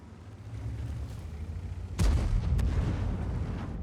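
Object 140 tank gun in World of Tanks fires once with a sharp, heavy boom partway through, followed by a rumbling tail over a low engine drone; a fainter crack follows soon after.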